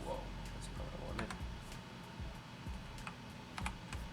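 Brisk typing on a new computer keyboard during live day trading, with steady clustered key clicks close by over a constant low background hum and no clear talk.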